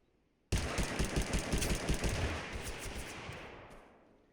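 Dense automatic gunfire from a TABG video game battle erupts suddenly and holds loud and continuous for several seconds, rapid bursts overlapping before slowly tailing off.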